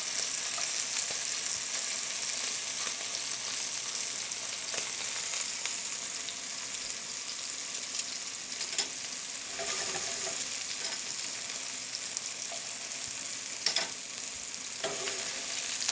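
Scallops sauteing in a hot pan give a steady, dense sizzle that runs continuously, with occasional brief clinks and stirring sounds.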